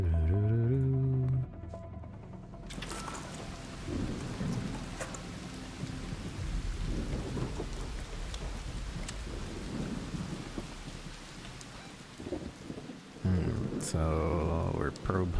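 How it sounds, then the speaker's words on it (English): Thunderstorm with lightning strikes in the video game Arc Raiders: a steady rain-like wash with rumbling low thunder throughout, stronger bursts near the start and end, and faint voice-like sounds mixed in. "an electromagnetic storm is currently raging over topside. Beware the lightning strikes if you're outdoors."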